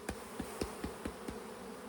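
Honey bees shaken off a hive frame, a soft steady insect buzz with a series of light thumps from the frame being shaken, fairly quiet throughout.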